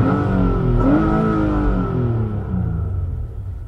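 A car engine revs hard under full throttle, climbing then easing off, loud and close as a steady rising roar with no voices.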